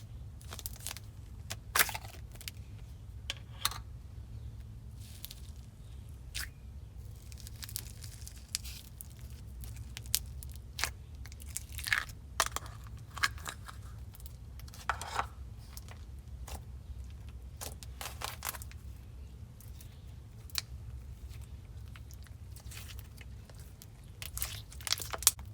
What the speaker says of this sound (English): This slime is called Cotton Candy Crunch.